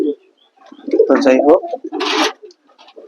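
Pigeons coo in a loft during morning feeding, a few throaty rolling coos close by, with someone speaking over them.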